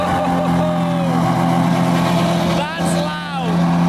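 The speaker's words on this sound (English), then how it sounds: "this thing even sounds like a jet engine starting up." A Mansory SVJ Cabrera supercar engine fires up and revs loudly and close by, a sustained roar with rising and falling pitch sweeps, heard without anyone talking over it.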